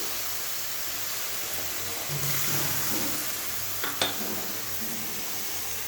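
Spice paste of ground cumin and other spices frying with onion in a pan for a yogurt jackfruit and prawn curry, a steady soft sizzle throughout with a few clinks of stirring near the end.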